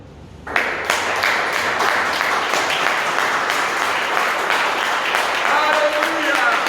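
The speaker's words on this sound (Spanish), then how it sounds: "¿Podemos aplaudir?" A church congregation breaks into applause during a sermon, the clapping starting sharply after a brief quiet moment and then continuing as a full, sustained roar to the end.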